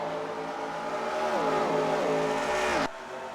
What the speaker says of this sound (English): Now Mercer is going to go into the inside of the lapped cars.